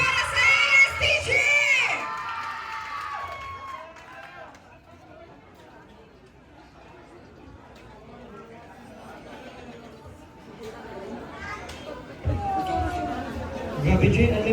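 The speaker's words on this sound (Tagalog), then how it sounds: "Isang malakas sa palakpak para sa ASTG!" Crowd at a Christmas performance competition cheering and shouting loudly for the defending champion team, bursts at the start and end with chatter and voices between.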